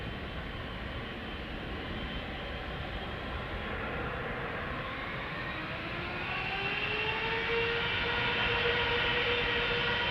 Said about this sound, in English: This is China Southern Cargo 777 freighter, flight 2574, 14-year-old airplane